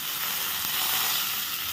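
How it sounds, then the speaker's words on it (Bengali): Chopped ginger, coconut and nuts fry in hot oil in a pan, a loud continuous sizzle and crackle with no pause. "এটা দিয়ে আবার একটু ভেজে নেব"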